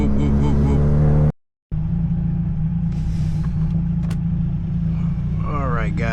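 Engine and exhaust of a tuned Hyundai Elantra N drone steadily close by with a low rumble and a pulsing, repeated whoop, cut by a brief dropout, while a person talks over it.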